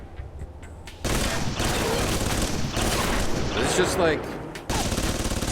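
Automatic turret fire in the PC game Alpha Protocol, a dense, continuous rattling burst that stops briefly and then starts again, with a voice speaking over the gunfire.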